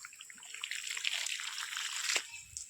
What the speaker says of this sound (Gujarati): અત્યારે આપણે પાણી ચાલુ કરી દીધું છે